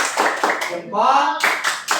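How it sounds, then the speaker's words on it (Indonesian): A classroom of students performs the rhythmic 'tepuk salut' clap, several bursts of group clapping broken by a short chanted vocal passage in the middle. "kita tepuk salut dulu untuk teman kalian yang di depan"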